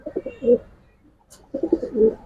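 Giribaz pigeons coo in two low, throaty phrases separated by a brief pause, close and distinct with no talking.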